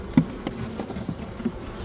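Honey bees buzz in a dense, steady drone during an early-spring hive inspection in Melbourne, close to the microphone with a few louder passes and no talk.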